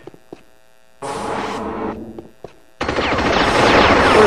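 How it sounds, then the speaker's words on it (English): Miniguns in Unreal Tournament, a couple of short spinning bursts followed by a longer, louder stream of rapid fire after brief silent gaps and faint clicks. "First firefight with the miniguns."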